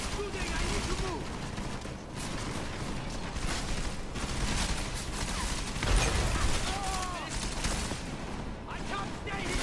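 Gunfire in the shooter game Deus Ex: Mankind Divided: dense, continuous bursts of shots and rattling mechanisms with scattered pops throughout, mixed under shouted voices and busy combat noise.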